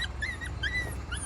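Dogs whimper and yelp in a series of short, high, thin whines close by, over a steady low rumble of background noise, with no talking.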